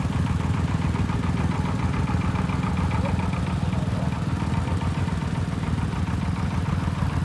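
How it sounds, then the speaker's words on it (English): A Farmall F14 tractor engine idles steadily with a low, even chugging rumble and some mechanical clatter, continuous throughout with no voices. "This is a Farmall F14 that was restored by Brandon Jenkins and Kev"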